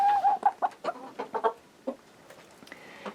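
A rooster gives a run of sharp clucks and calls, close and fairly loud, in short bursts with pauses, the sounds trailing off into quieter calls near the end.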